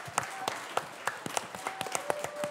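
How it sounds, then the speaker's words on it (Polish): An audience at a Polish talk event about money and working in a bank gives a thin, scattered round of applause for a special guest, with separate claps and a faint tone underneath. "ja bym chciała jeszcze was poprosić o ogromne oklaski dla naszego gościa specjalnego"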